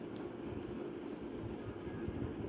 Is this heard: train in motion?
yes